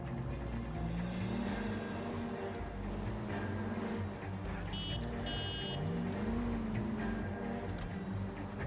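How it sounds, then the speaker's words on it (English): A car drives through the city in the 1940s Los Angeles detective game L.A. Noire, with a steady engine drone that rises and falls in pitch as it accelerates, plus brief higher tones from the game. "Drive around in the car."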